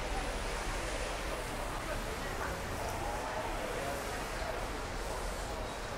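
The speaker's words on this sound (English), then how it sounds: "It's pouring rain." Heavy rain pours steadily onto a Hong Kong street at lunch hour, a dense, continuous hiss heard from close by.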